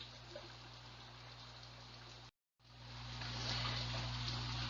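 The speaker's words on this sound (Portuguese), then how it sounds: "Tá dando para ouvir o barulhinho da chuva aí, gente?" Rain falling outdoors on a cold day gives a steady, faint hiss of drops with a low hum beneath, briefly cutting out before resuming slightly louder.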